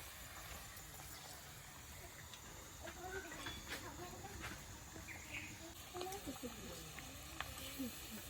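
Chicken egg devils frying in hot oil, a steady crackling hiss that runs continuously and fairly quietly, with faint speech-like tones mixed in beneath the sizzle.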